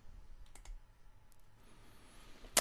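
A computer mouse clicks on a website: a few faint, sharp clicks scattered through quiet room tone, then a louder, crisp click at the end.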